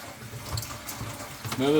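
Tap water runs at full flow after a water treatment filter install, a steady broadband rush throughout with brief voices over it near the end.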